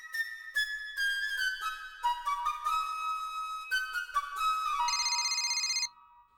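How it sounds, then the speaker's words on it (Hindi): A mobile phone rings with a melodic electronic ringtone, a bright series of synthesized notes ending in a fast warbling trill, clear and close, with no talk over it. "पापा का फोन।"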